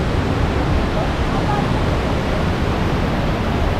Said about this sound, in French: Et avec ici une belle petite cascade.